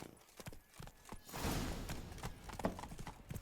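Horse hooves clip-clop at a steady trotting rhythm in The Witcher 3: Wild Hunt, fairly close and moderately loud against quiet ambient background.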